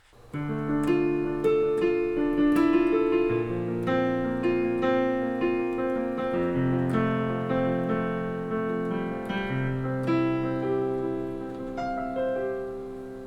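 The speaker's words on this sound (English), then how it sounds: "So started out with this little piano riff." A short piano riff of gently struck, decaying notes forming a mellow, flowing melody, played alone with no voices.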